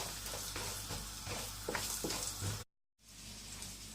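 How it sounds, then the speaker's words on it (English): Green chilies sautéing in oil for jeera rice, a soft sizzle with light scraping stirs, briefly cut to silence before the faint frying resumes; no talking. "Just saute this for about 30 seconds."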